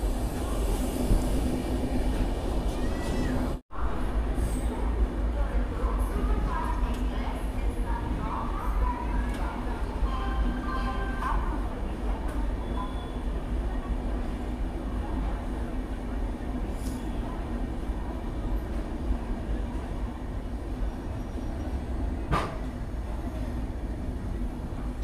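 The 12821 Dhauli Express passenger train runs between Shalimar and Puri, heard from on board as a continuous rumble of wheels and carriage noise with faint rhythmic clicks and a sharp break in the sound early on.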